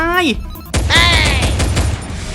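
Gunfire in the mobile shooter Free Fire, a short burst of shots and booms after a brief tonal game sound, close and loud, with a voice talking over it.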